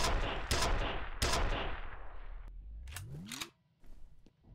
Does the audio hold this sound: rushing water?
no